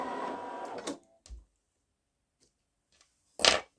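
A Babylock Solaris embroidery machine stitches out a few stitches in short mechanical bursts, a brief whirring run, a soft thump, faint ticks, then another quick burst, fairly quiet with silence between.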